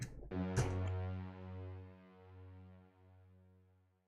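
A single sustained note from a Roland FA-06 synthesizer keyboard with reverb off, rich harmonics, struck after a brief click, then slowly fading with a gentle wavering pulse over a few seconds.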